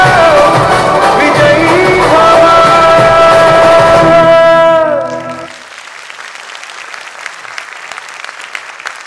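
Audience applause after a dance company's stage performance at a cultural event in Mumbai, loud sustained clapping over fading music, then thinning to scattered claps.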